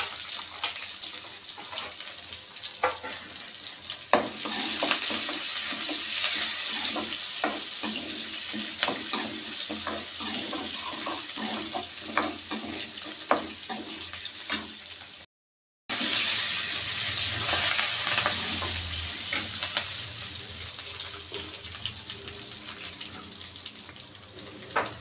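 Curry leaves and onion sizzle loudly in a hot pan with oil, a steady broadband frying hiss. It carries on without a break apart from a short silent gap midway, and crackles and spatters rise above it.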